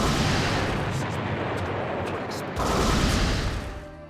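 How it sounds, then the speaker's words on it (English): Rumbling booms and crackling blasts from explosion effects in Naruto Shippuden: Ultimate Ninja Storm 2, dense and loud, with a fresh burst swelling about midway. "Once again, I love these N64 explosion sound effects."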